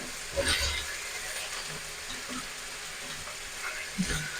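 Beans and potatoes fry in a pan with a soft, continuous sizzle, broken by a few brief stirring knocks near the start and the end.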